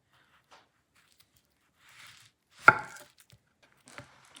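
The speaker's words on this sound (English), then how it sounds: "you're going to cut this baby in slices." A knife slices through a ripe plantain, giving one sharp, close cut with a short crunchy tail. Faint handling noises sit around it in otherwise quiet surroundings.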